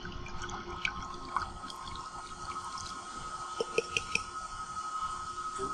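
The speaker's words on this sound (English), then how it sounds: "I'm going to take the slurry, and I'm going to pour that" Pulp slurry poured into a vacuum filter makes a light, steady liquid trickle with scattered drips and splashes, close by and fairly quiet.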